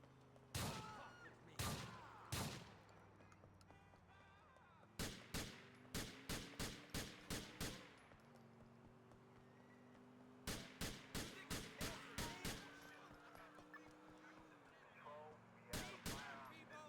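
Bursts of gunfire from shooting police in Need for Speed Most Wanted: sharp shots in quick clusters of three, then runs of about eight, loud and close over a steady engine drone.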